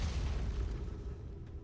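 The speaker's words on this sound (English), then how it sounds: "I'm choosing to ignore all of the explosions." Rumbling explosions in the space exploration game Outer Wilds, a continuous deep boom and roar that stays loud for the whole stretch and fades slightly near the end, with no talking.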